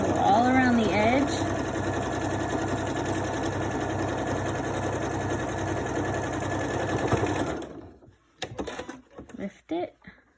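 A sewing machine stitches steadily around a pleated edge, a close, continuous rapid whir that stops near the end, followed by a few soft handling clicks and knocks. Someone talks briefly near the start.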